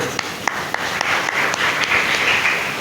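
Audience clapping during a spiritual talk at an ISKCON temple in Margao, a steady hiss of many hands with a handful of distinct sharp claps spaced through it, moderately loud and unbroken.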